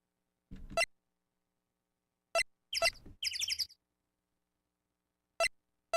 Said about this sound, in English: That bird sound is pretty good.